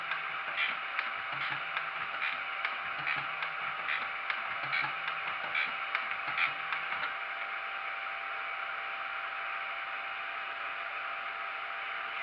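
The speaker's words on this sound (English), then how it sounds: "It's not a fast job, this surface grinding, malarkey, but it's accurate." Surface grinder taking light flat passes across a carbide piece, a steady hiss with faint rhythmic ticking from the machine for about seven seconds, then a continuous even grinding hiss alone.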